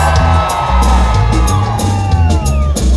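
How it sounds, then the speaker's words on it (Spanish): Concert crowd at a live regional Mexican music show shouting and whooping loudly, a sustained roar of yells over held band chords, with sharp bursts of cheering rising throughout. "El que quiera otra, que se eche un grito."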